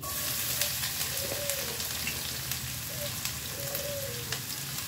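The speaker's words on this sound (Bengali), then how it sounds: "আর এই তো তেল কিন্তু গরম হয়ে এসেছে, এখন আমি বিসমিল্লাহ বলে পেঁয়াজগুলো দিয়ে দিব" Onions frying in hot oil for a dish of bottle gourd and a large katla fish head, giving a soft, steady sizzle and crackle with light stirring clinks throughout.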